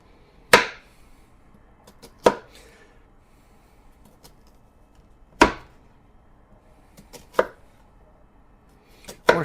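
A knife cuts through an onion on a cutting board, giving five sharp, separate chops at uneven intervals, close and clear over near silence.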